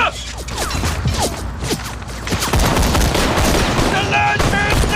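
Machine gun bursts and heavy mortar-like blasts crackle through a war drama battle scene, dense rapid fire overlapping with booms and mechanical clatter, loud and continuous with shouting voices mixed in.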